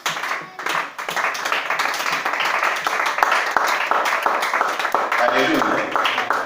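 A church congregation claps loudly and steadily to acclaim the Lord, the dense clapping continuous throughout with crowd voices mixed in.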